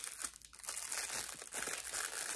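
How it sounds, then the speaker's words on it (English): Plastic packaging around a small phone stand crinkles steadily as the item is unpacked, a soft, continuous rustle heard up close with no voices. "Let's get it out of its plastic container."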